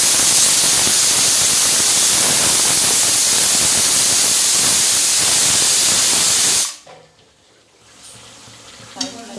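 Chopped tomato hits hot oil in a pan while chicken kosha cooks, giving a loud, steady sizzle and hiss that cuts off abruptly, leaving quiet kitchen sounds and a faint clink.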